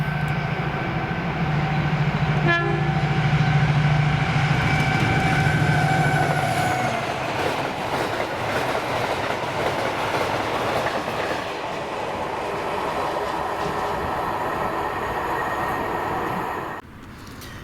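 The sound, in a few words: freight train 6Z84 hauled by locomotive 7802 passing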